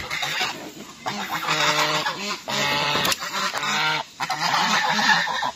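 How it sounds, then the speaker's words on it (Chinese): A hen cackles after laying an egg on a farm in Chongqing, loud repeated honking clucks in several bursts, up close with no talking. "母鸡生完蛋的话，它就会打铃，咯呀咯的叫"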